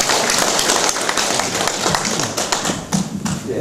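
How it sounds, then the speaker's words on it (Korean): Audience applause at an academic conference held by a traditional Korean study hall: a loud, continuous patter of many hands clapping close by, with some sharper individual claps and faint voices mixed in. "많이 치세요, 박수."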